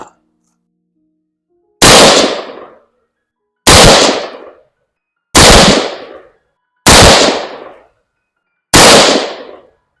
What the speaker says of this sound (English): So I'm going to shoot 5 of those first.